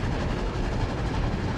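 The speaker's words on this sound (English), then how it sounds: "that's more the classic click-clack kind of rattle of the train wheels" Steady rhythmic clickety-clack of train wheels rattling over rail joints, loud and close, with a constant low rumble underneath.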